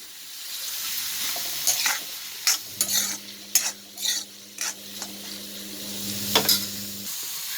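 Big onions and small shallots frying in a pan for a spicy Andhra-style country chicken curry, a steady sizzle under repeated scraping spoon strokes as they are stirred, with a low hum in the background.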